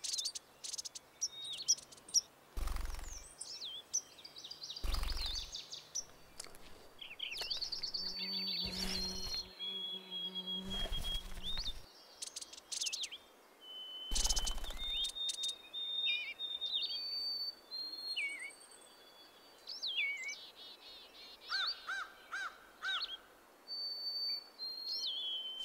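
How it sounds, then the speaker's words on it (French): Blackbirds and buntings sing outdoors in varied whistled chirps and trills scattered throughout, over a constant insect buzz, with a few low thumps breaking in. "On dirait que Hiawatha prend plaisir à regarder les merles et les bruants"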